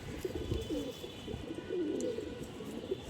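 Green-necked female pigeon cooing softly up close, several low rolling coos in a quiet setting.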